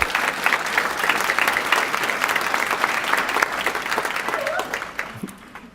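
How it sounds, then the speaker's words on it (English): A graduation audience claps in a steady, full burst of applause. It holds at an even level for several seconds, then thins out and fades near the end. "Hey, that's worth some applause."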